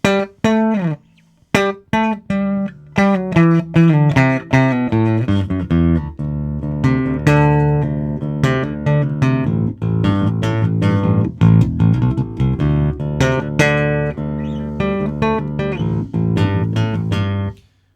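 A Peavey T-40 bass guitar with its pickups switched out of phase plays a run of plucked and slapped notes, bright and thin-toned with a hollow, nasal edge, close and continuous with no talking.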